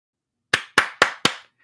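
Four crisp hand claps land in quick, even succession, close and loud, followed by silence.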